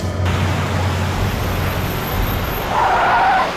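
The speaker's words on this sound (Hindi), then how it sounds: "सर गाड़ी रोकी सर" A car brakes to a halt in a CID crime drama episode, with an engine hum and a loud, close tyre skid that swells again just before it stops.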